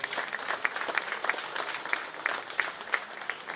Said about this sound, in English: Let's give these exhibitors a round of applause.